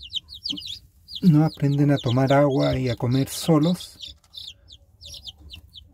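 Newly hatched chicks peep in quick, high, repeated bursts throughout, steady and close, while a person talks over them in the middle.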